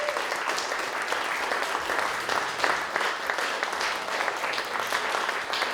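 A live audience at a translation reading event gives a sustained round of applause, a dense, even wash of clapping hands throughout with no voices over it.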